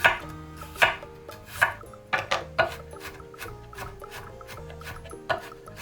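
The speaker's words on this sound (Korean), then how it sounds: "가끔은 마늘에 잘게 잘린 질감이 좋아서 번거롭더라도 잘게 다져서 요리에 사용한답니다" A knife minces garlic on a cutting board in sharp, uneven strikes, close and clear, with quieter scraping between them.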